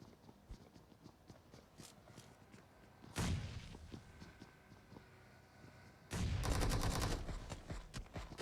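In the mobile battle royale BGMI, a grenade blast and gunfire come as two sharp, loud bursts, the second ringing longer, over faint scattered shots in a low, quiet mix.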